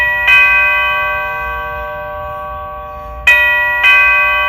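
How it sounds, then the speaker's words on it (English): A musical doorbell used as a burglary alarm on a door gives a bright, harmonic ding-dong chime, one strike near the start ringing out and a second pair of strikes near the end, close and loud with no talking. "this bell is by default designed to do the ding dong for twice every time it's triggered"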